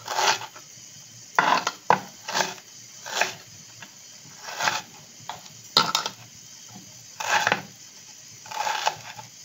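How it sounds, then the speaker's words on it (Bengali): Onions are cut into large square pieces with a knife on a board for paneer do pyaza, producing irregular close chopping knocks with pauses between the bursts. "একটু বড় বড় করে পেঁয়াজ কেটে নিই"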